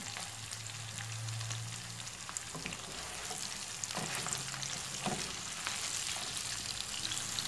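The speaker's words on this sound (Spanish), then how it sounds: "pueden utilizar chipotle seco y lo freímos. Y enseguida agregamos las ciruelas." Dried chipotle chiles and plums frying in a pan for a pork loin sauce, a steady close sizzle with a few bursts of stirring and scraping, and no talking.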